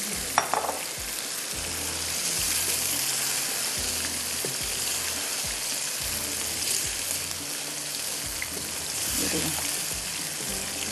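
Chicken pieces for a Kashmiri chicken masala sizzle and bubble in a pan with added water, a steady close frying hiss with occasional stirring clatter, and a person talking faintly underneath.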